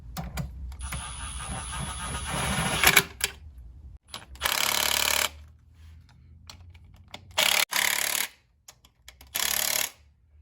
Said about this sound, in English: This is my 1/4 inch impact. Usually I'll use power setting 2, but we're gonna go with 1 here because I don't want to over torque these bolts.